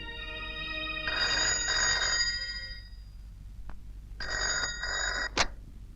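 A telephone bell rings in two bursts, each a trilling electronic ring lasting about a second or more, separated by a quiet gap, with a short click near the end.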